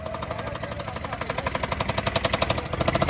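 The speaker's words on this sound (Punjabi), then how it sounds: "ਇੰਨਾ ਵਧੀਆ ਚੱਲਦਾ ਹੋਇਆ ਟਰੈਕਟਰ ਆ" A tractor's diesel engine chugs steadily in a fast, pounding rhythm, loud and close, running alone without any voices.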